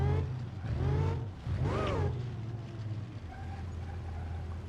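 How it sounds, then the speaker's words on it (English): A turbocharged car engine in a racing game drones with a low steady hum, then rises through pitched whistling swoops like an odd instrument before settling back to a lower drone, moderately loud. "That turbo just sounds like a weird instrument"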